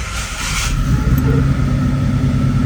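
A Comet car engine runs with a loud, close rumble that rises steadily as it revs, and the steady drone continues without speech.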